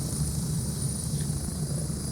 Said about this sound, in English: You're just riding the helicopter for the transport.